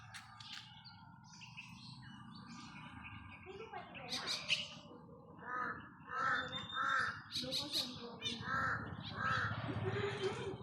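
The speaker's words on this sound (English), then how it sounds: "There's a crow. There's a crow." Outdoors, a crow caws in several loud, hoarse bursts in a row, with other birds chirping and a steady low background rumble; a person talks briefly early on.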